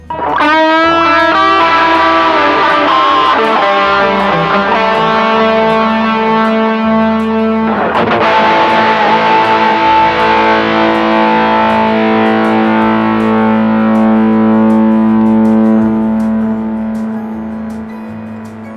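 An electric guitar with distortion, played through an 8Note Chrono tap delay pedal, rings out sustained chords, each note echoing in rapid repeating delays; a second strum midway, then the sound slowly fades.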